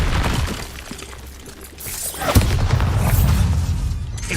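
A Confringo blasting spell from Hogwarts Legacy bursts with a sudden loud boom a bit over halfway through, set in a dense, noisy game mix of rumbling low effects and crackling debris that stays loud afterward.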